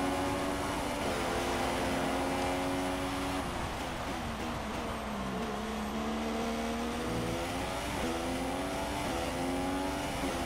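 A Formula 1 car engine in the F1 2016 racing game at the Bahrain Grand Prix accelerates through the gears, its high whining pitch climbing, dropping at each shift, then climbing again, loud and continuous.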